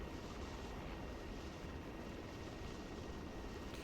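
Aircraft engine running steadily in the military game ArmA 3, a constant dense roar that stays level and fairly loud throughout, heard from inside the cockpit with no talk.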